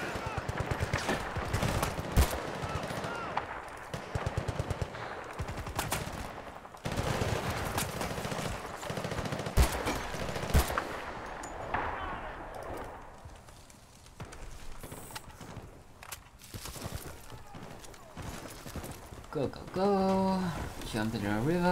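Gunfire in the video game Battlefield: Bad Company 2, during a river campaign mission: repeated bursts of shots and sharp cracks spread across a long, busy stretch, with a voice talking over parts of it.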